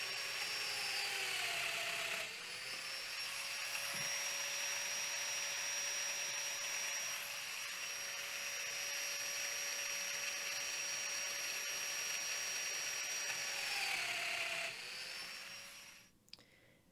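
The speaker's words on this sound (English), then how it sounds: "I'm going to be using my domino machine, and I will be running dominoes" A Festool Domino joiner runs at a steady high whine while cutting mortises in wood for floating TV console joinery, spinning up near the start and winding down near the end. It sounds close and loud with no talk.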